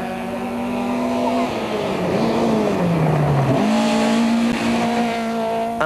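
Citroën Saxo T4 four-wheel-drive Saxo Challenge rally car in a 2003 rally, its engine roaring loud and steady with pitch dipping and climbing through gear changes and corners, tires squealing.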